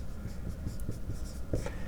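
Pen or marker writing out a chemical reaction on a board during an electrochemistry lesson, with steady scratchy strokes and short taps running through about two seconds, close by and fairly quiet.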